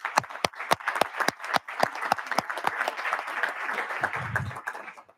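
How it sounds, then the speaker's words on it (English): An audience at a House agriculture subcommittee hearing applauds; several sharp, separate claps open it, then thicken into a steady round of clapping that fades near the end. "Let's all give them a round of applause,"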